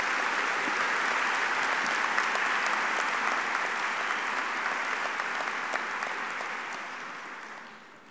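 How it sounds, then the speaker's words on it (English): Sustained applause from a high school commencement audience, a steady dense wash of clapping that holds for most of the stretch before gradually tapering off near the end. "Lillian, Connor, Katie, Emily, and Savannah one more round of applause."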